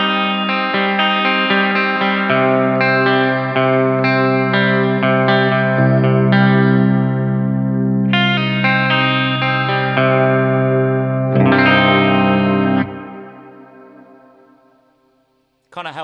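An electric guitar plays sustained chords through a hall reverb on a Line 6 Helix or Strymon Big Sky, drenched in lush, spacious reverb, the notes blooming and lingering before a long fading tail.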